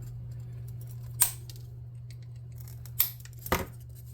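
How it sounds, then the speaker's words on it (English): Scissors snip through something with three crisp, separate cuts set a second or two apart, close and clear against a quiet, humming background. "Let's snip those off a little bit."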